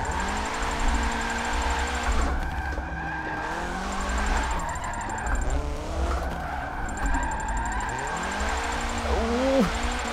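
A car drifting in an online racing video game, with engine notes rising and falling through gear changes and sustained tire squeal and skidding over short jumps, loud and continuous with no talk.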